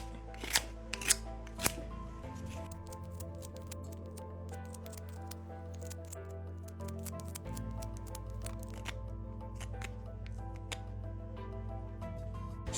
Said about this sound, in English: it's going to easily be able to cut into an oak wood dowel like this very easily